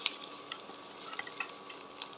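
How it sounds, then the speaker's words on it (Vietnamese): Chopped shallots fry in hot oil in a pan, giving a soft, steady sizzle with faint crackles and light stirring clicks, no voices. "Mình phi cho hành dậy mùi thơm."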